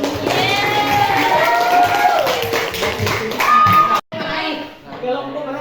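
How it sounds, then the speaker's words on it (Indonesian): A classroom gives group two a round of applause: a clatter of hands mixed with children's voices and chatter, fairly loud and close, breaking off briefly near the end. "Oke, tepuk tangan untuk kelompok dua."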